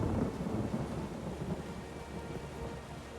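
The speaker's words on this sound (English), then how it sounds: "It's a nice rainy day outside Daggerfall." Steady rain falls outside Daggerfall in the video game Elder Scrolls Online, a dense, even hiss of downpour with a low rumbling undertone, constant and close with no voices.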